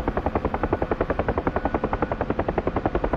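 A Huey helicopter's rotor thumps in a fast, steady beat in the DCS flight simulator game, loud and close, with no talking over it.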